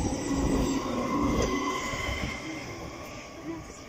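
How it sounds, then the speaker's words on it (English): London Underground Northern Line train departing a surface station toward Morden via Bank, a loud rumbling roll with faint wheel squeal that gradually fades as it pulls away, with someone speaking over it. "It's the Northern Line train to Bank, terminating at Morden."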